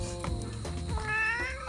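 A house cat meows close by, giving a couple of drawn-out, rising and falling cries against a steady background hum, with no talking.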